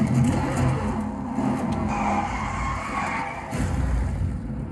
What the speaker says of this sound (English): this is a really fake looking crash